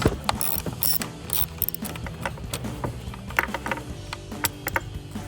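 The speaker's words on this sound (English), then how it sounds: "Now using a 10mm deep socket, remove this bracket as we will no longer need it." A 10mm deep socket ratchet clicks steadily and rapidly while removing a bracket from a Jeep Gladiator, with close, dense metallic pawl ticking and occasional clanks of tools.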